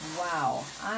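L'Oreal Colorista rose gold hair color sprayed from an aerosol can onto a synthetic wig, a steady close hiss lasting about a second, with a tonal whistle and a voice faintly present in the background.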